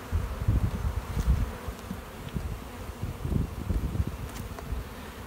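Honey bees in a hive hum in a low, wavering buzz that swells and fades, close and continuous, with no talking.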